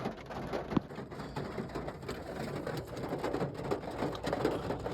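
Steady rain falls through a rainy day, a continuous soft patter at moderate loudness with no voices, with a few faint bird calls in the background.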